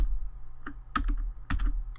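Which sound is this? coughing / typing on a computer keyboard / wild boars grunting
typing on a computer keyboard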